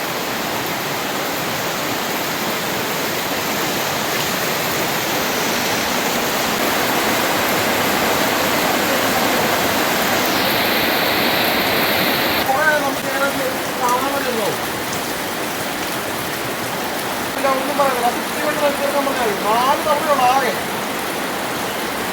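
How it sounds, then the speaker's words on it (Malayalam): Heavy rain pours steadily as a dense, continuous hiss that swells slightly midway, with faint voices briefly audible beneath the downpour. "മഴ വീണ്ടും കൂടി."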